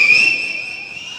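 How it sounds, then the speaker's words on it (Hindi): A person whistles a single sustained high note, bright and steady, loud and close, fading slightly toward the end with no talk over it. "आपने सीटी कैसे बजाई?"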